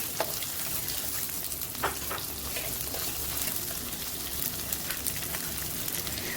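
Shallots fry in hot oil for a Vaala fish curry, sizzling steadily up close, with occasional sharper pops and the scrape of stirring.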